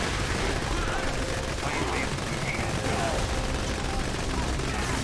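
Rapid gunfire from Borderlands 2 rattles continuously through the whole stretch, loud and dense, with a busy layer of game noise and no clear pauses.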